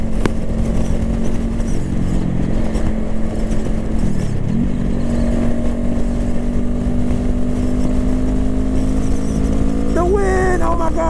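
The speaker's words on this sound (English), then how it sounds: "The wind is intense, y'all." Heavy wind roar buffets continuously while riding a Honda CB500F motorcycle on a highway, with the engine droning underneath and rising in pitch near the end; a rider talks intermittently over the rush.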